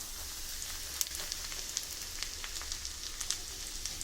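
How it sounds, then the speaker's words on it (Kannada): Chiroti rava (semolina) fries in a pan with ghee for sheera, giving a soft, even sizzle with small crackling ticks throughout, no voices. "ಇದನ್ನು ಚೆನ್ನಾಗಿ ಫ್ರೈ ಮಾಡಬೇಕು."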